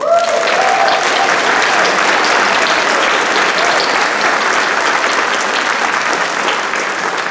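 An audience at a Christmas band concert in Boynton Beach, Florida, applauds a vocalist. Loud, sustained clapping fills the whole stretch and fades only slightly toward the end, with no talk over it.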